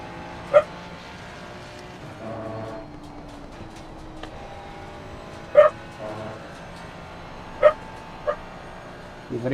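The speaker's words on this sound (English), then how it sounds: "I've got my dog trying to get under my pedals." A dog near a sim-racing setup gives several short, sharp barks and yips spaced seconds apart, with softer whimpering between them, over a steady engine-like hum.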